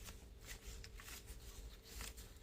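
Paper game cards for a Holi party game being shuffled by hand, a quiet run of soft papery riffles and flicks repeating over a couple of seconds, with no talk.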